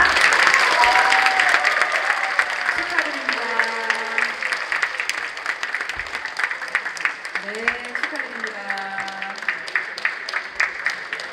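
An audience applauds at an award ceremony for a multicultural choir contest held by a Korean church association. The sustained, dense clapping runs beneath a speaker's amplified voice and gradually thins toward the end.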